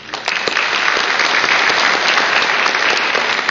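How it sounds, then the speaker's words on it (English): An audience at a city council debate applauds, dense steady clapping that fills the space at full volume without a break. "I think they all deserve a round of applause."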